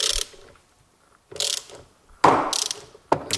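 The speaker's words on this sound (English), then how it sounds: "And now I open this both bolts in that way." A ratchet wrench loosens turbocharger bolts in four separate bursts of quick, close clicking, with quiet pauses between each burst.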